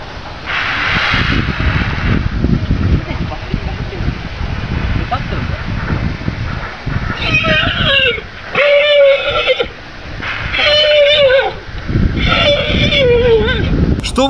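A mare whinnies several times in loud, shrill bursts through the second half, over a rough, noisy background with some earlier rustling.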